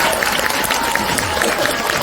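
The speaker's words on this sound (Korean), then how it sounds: "박수 한번 좀 부탁드립니다" Audience applause at a book-selection ceremony in Bupyeong honoring a young-adult fantasy award winner, dense continuous clapping from an indoor crowd, fairly loud and even.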